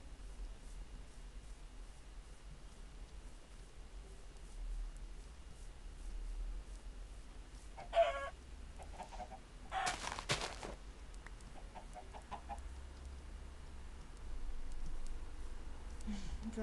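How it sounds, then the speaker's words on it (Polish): Chickens in the Minecraft survival game give a few short clucks amid a faint steady background hiss, with brief bursts around the middle of an otherwise quiet stretch. "Tutaj widzę kurczaki"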